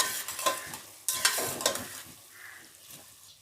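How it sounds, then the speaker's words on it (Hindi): Vermicelli (seviyan) being roasted with cream in a pan, with a clear stir-and-sizzle as a spoon scrapes through it in a few bursts, moderately close and no talking. "2 मिनट मैंने पहले भूना है सेवइयों को और 1 मिनट में अब इनको भून रही हूँ"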